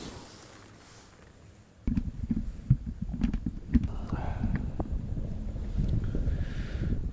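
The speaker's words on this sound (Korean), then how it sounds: "바람도 많이 불고" Strong, cold wind buffets a microphone outdoors on a fishing outing among autumn foliage, a steady low rumble and gusty throbbing that swells sharply partway through and stays loud.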